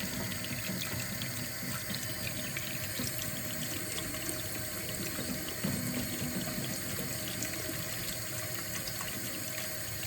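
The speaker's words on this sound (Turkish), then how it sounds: "şuraya koyup soğuk sudan güzelce geçiriyoruz" Cold tap water runs steadily over boiled eggs in a sink, giving a continuous, close, even splashing rush with no talk.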